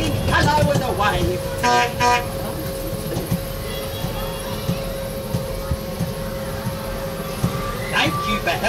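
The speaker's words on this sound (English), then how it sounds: "The Sodal cars are honking hello and a wave." Short car horn toots sound twice early on and again near the end, over a steady hum with a voice talking throughout.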